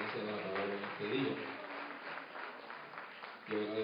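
Church congregation applauding during a Spanish-language service, a moderate wash of clapping mixed with voices speaking over it and a louder speaking passage near the end.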